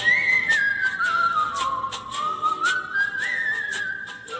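A man whistles the melody of a Hindi song. The whistle is clear and close, with a single smooth tone that glides up and down, alone with no talk over it.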